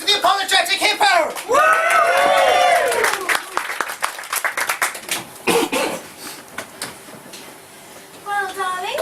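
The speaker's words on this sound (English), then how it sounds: "smattering of applause, please, for the Apologetic Hippo!" Scattered audience clapping breaks out in bursts amid lively voices and laughter, the applause fairly close and mixed with chatter rather than a sustained ovation.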